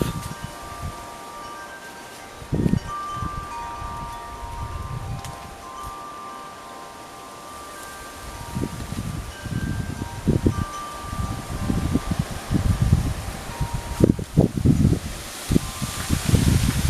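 Autumn leaves rustle in gusting wind outdoors, a steady close rush with crackling bursts that grow busier and louder toward the end, with some wind buffeting on the microphone.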